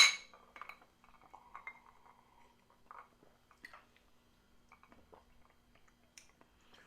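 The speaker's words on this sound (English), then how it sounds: "Let's go ahead and clink them and drink them." Glasses of Nikte' rum clink together in a toast, making a few faint, sharp clinks in a quiet room, followed by soft scattered handling and sipping noises.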